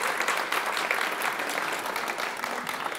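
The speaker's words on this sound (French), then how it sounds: "On peut applaudir, bien sûr." Sustained applause from a conference audience at a plenary morning session on underwater works, steady dense clapping filling the hall without a break.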